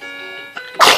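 A single sharp sneeze bursts out near the end, loud and close, after a brief sustained tonal sound.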